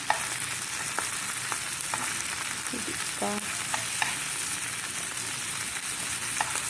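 Dried fish (tuyo) frying in a small amount of oil, a steady close sizzle and crackle throughout, with a few light clinks of a utensil against the pan.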